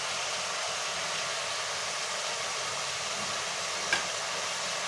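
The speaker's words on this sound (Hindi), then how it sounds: "अब इसमें हम पिसा हुआ अदरक लहसुन और हरी मिर्ची का पेस्ट डालेंगे।" Mutton with ginger, garlic and green chili paste sizzles steadily in a pan, a constant even hiss with one brief stirring knock near the end and no voices.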